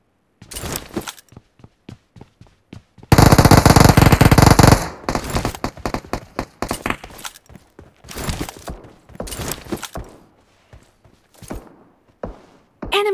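Rapid bursts of PUBG Mobile gunfire, including pistol fire, with a sustained loud volley in the middle and scattered single shots and short clatters before and after.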